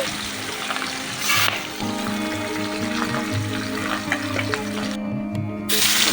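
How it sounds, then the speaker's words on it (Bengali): Pabda fish frying in hot oil in a home kitchen pan, a loud, dense crackling sizzle that fills the whole stretch, with brief bursts of running water in between, close up and with no voices. "দেখো প্রথমে মাছগুলো ভেজে নিচ্ছে"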